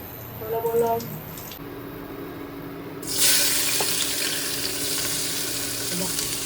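Chopped onions and tomatoes hit hot oil for a bachelor-style biryani, bursting into a loud, steady broadband sizzle that holds after an earlier stretch of quieter kitchen noise with faint talk.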